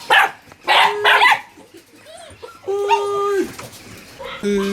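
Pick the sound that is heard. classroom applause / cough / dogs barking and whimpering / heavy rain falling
dogs barking and whimpering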